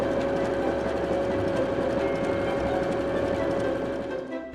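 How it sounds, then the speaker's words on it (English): A Baby Lock sewing machine overcasts the edges of ravelly fabric, giving a steady, close, continuous mechanical whir with a constant hum that runs unbroken and loud, easing slightly toward the end. "I love my Baby Lock sewing machine. It does the best job overcasting the edges of my ravelly fabrics."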